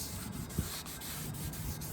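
Steady rag rubbing against the rear brake rotor of a 2005-2007 Infiniti G35, sprayed with brake cleaner, a continuous scrubbing swish with a brief thump partway through, close and fairly quiet.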